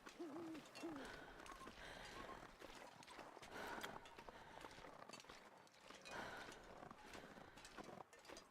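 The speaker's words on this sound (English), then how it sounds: "The hooting of a nearby owl." An owl hoots near the player in the wintry survival game The Long Dark, a short wavering call early on heard over steady wind and crunching footsteps.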